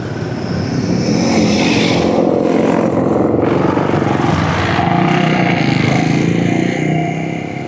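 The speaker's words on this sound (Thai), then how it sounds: "อ๋อเสียงรถนะ" Dense city street traffic in Vientiane, cars and motorcycles passing close with engine drone and revving, loud and continuous throughout.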